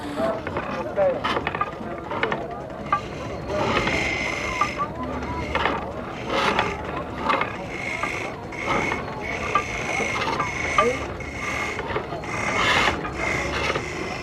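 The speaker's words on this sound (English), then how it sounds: "Here's a woodworker spinning a primitive lathe by means of a bow held in his right hand." A primitive bow-driven lathe turns a poplar or mulberry cradle leg, with rhythmic back-and-forth scraping and rasping strokes. A narrator talks over it throughout.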